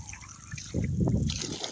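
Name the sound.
water being poured during manual well drilling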